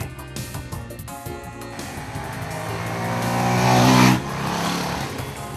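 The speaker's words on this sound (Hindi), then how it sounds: "ड्रैग ट्रैक्स के ऊपर सबसे तेज रफ्तार टेस्ट किया 135 सीसी यामाहा को 155 किलोमीटर प्रति घंटे की रफ्तार से।" A high-revving 135cc Yamaha motorcycle screams past at about 155 km/h on a drag track, building to a loud peak before dropping off sharply, with tire noise in the mix.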